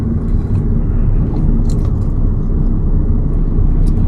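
A car pulls away on a road in Didsbury after shifting into second gear, a steady low engine and road rumble filling the cabin, loud and continuous with faint interior clicks.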